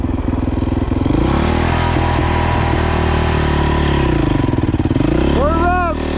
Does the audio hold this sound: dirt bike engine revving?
yes